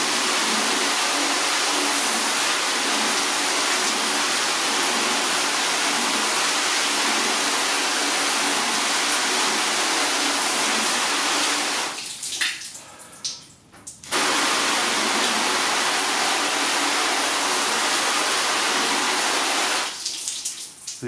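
Water sprays steadily from a garden hose onto a car during a spray-wax test, a loud continuous hiss that cuts out briefly twice, then resumes.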